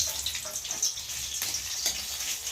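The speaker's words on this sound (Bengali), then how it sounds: "একটু আলু ভালো করে ভেজে দেবো" Potatoes sizzling in hot oil in a kadai, a steady hissing fry with soft crackles and a few sharper pops, close and continuous with no talking.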